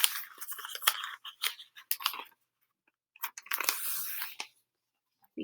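Paper being folded down along a crease for a natural objects craft project, with bursts of crisp crinkling and rubbing separated by silences, close and fairly quiet.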